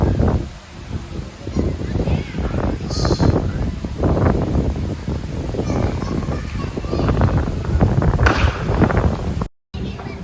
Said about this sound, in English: Nice windy night.